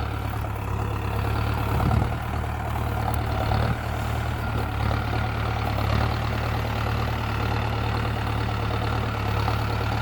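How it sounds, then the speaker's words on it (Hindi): A Mahindra tractor engine drones at a steady, loud low rumble while levelling a field in medium first gear. The hum stays constant and close, with a few faint knocks. "और अभी शायद ट्रैक्टर मीडियम के पहले गियर में चल रहा है।"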